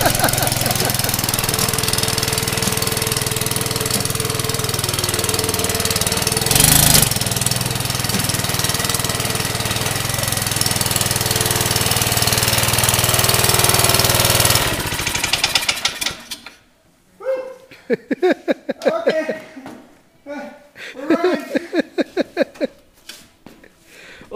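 A small go-kart engine runs loud and steady with a knocking, rattling drone for about fifteen seconds, then cuts off abruptly, leaving quieter broken knocks and voices talking nearby.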